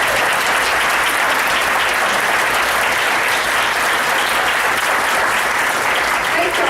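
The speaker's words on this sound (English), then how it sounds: "Everybody, please, y'all give these folks a round of applause." Banquet audience at an installation event gives a sustained, loud round of applause for first-time convention attendees, dense clapping filling the whole stretch without pause.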